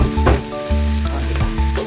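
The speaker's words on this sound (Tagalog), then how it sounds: "Ilagay na natin yung ating sibuyas dyan." Onions hitting a hot pan with ginger, giving a loud, close, continuous sizzle and frying hiss with stirring thumps throughout.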